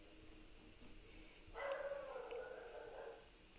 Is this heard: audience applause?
no